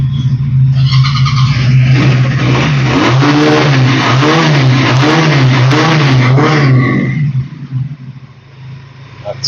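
A Rigel Spider motorcycle on its side stand is revved loudly up close, the throttle blipped in repeated swells that climb and fall for several seconds before dropping back toward idle.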